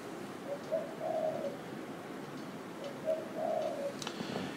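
Soft coos of a turtle dove (terkukur) in two faint, repeated phrases, fairly distant over a quiet background hiss, with no one speaking.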